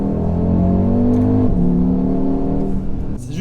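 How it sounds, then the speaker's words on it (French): A 2021 Audi RS Q3 with quattro drive accelerating through a corner, its five-cylinder engine note rising and holding loud and near, dipping briefly mid-way before pulling on, then easing off at the end. "avec le quattro, tu peux même remettre du gaz un petit peu en virage."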